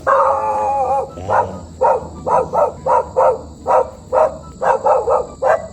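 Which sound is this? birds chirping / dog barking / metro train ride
dog barking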